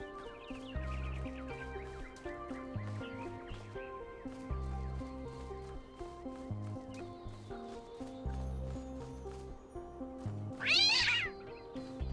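A cat meows repeatedly in the video game The Talos Principle 2, several short calls over a steady, rhythmic synth music bed, ending in one louder, rising meow near the close.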